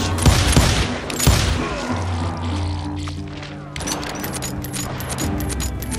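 Gunfire rings out in the Call of Juarez Gunslinger Western video game, with several sharp loud shots early on, then quieter clattering bursts over a humming game soundtrack.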